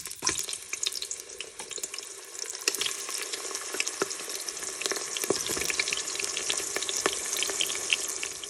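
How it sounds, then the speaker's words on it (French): Steady sizzling and crackling of aubergines frying in oil, with scattered pops and a watery hiss throughout; no one speaks. "on va commencer à faire frire les aubergines dans un filet d'huile"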